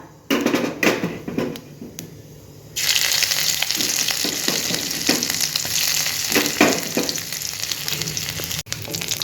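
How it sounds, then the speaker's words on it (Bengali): Nigella seeds and ginger paste fry in a tablespoon of oil in a kadai: after a few sharp clatters, a loud, close sizzle surges in and holds steady with crackles and scraping stirs, ending with a brief knock. "আদাটাকে ভাজতে থাকবো যতক্ষণ না আদার কাঁচা গন্ধটা চলে যাচ্ছে"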